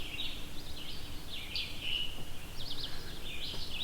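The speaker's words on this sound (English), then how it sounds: "As you can hear right now, I'm surrounded by birds. Red-eyed vireos, scarlet tanagers here as well." Red-eyed vireos and scarlet tanagers sing in a summer forest, bright repeated chirping phrases in short bursts over a soft continuous insect hum, likely a cicada, with no voices.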